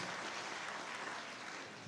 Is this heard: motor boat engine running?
no